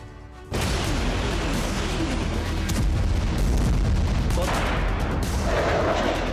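Rocket launcher and artillery fire in border war footage, a sudden loud onset of dense booming blasts and rumbling gunfire that continues without pause, heavy and close, with faint voices underneath.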